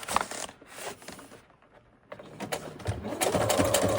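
Sewing machine stitching around the edges of a wallpaper lamp shade, a rapid mechanical chatter in bursts with a short pause between runs, close and clear.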